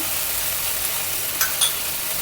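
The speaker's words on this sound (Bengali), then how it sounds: "এবার এই মশলাটা আমার ভাজা হয়ে গেছে ওপরে তেল উঠে দিয়ে বেরিয়ে গেছে" Spice paste fries in hot oil with a dense, loud, continuous sizzle, and a few brief clinks or scrapes come near the end.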